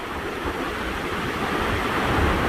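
Takakkaw Falls in Yoho National Park: a steady, loud roar of rushing water, even and unbroken, heard close to the base where a small river forms.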